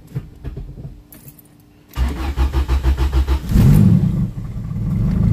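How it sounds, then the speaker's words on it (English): A B-series turbo Honda hatchback with cams and other engine mods starts up: keys jangle first, then the starter cranks in a fast rhythmic chug before the engine catches and settles into a loud, steady, rough idle. "I guess I can start the car."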